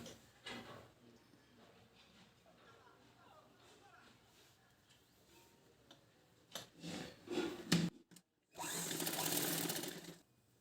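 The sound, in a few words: sewing machine stitching a folded hem on a baby frock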